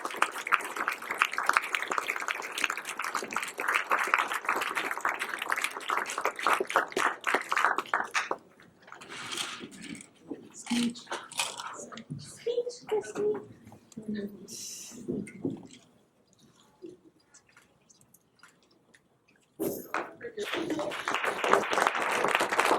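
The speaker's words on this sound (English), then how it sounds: "Please give Christine Barber a warm round of applause" Audience applause at an awards event honoring volunteers, bursts of clapping at the start and end with quieter stretches and voices in between.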